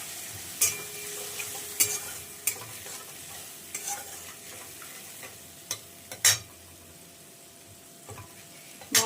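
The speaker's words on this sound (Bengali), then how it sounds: "দিয়ে দিচ্ছি সামান্য একটু জল, যাতে মশলাগুলো পুড়ে না যায়।" Spices fry in a pan with a splash of water for an Indian paneer and capsicum dish, giving a soft continuous sizzle broken by repeated sharp scraping clicks of a spoon stirring against the metal.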